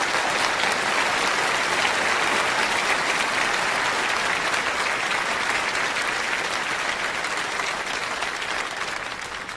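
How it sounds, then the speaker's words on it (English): Steady, dense applause from a large audience at a motivational talk, loud and continuous throughout before easing slightly at the end, with no voices over it. "Give yourselves a round of applause for changing people's lives."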